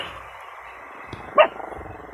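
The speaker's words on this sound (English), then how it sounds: "It sounds like the dogs are in agreement, too." A dog lets out one short, sharp bark near the middle, standing out from a low, steady background hum; no one speaks.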